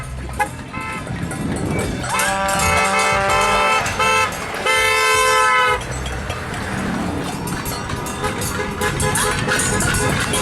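A car horn toots and honks repeatedly over road vehicle noise, loud and close, with music-like tonal blasts and some talk mixed in.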